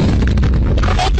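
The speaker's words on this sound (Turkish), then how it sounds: "Bilgisayar durduk yere kendi kendine patladı." A computer blows up in the video game Minecraft with one loud, close, booming burst that fills the moment with rumbling crackle.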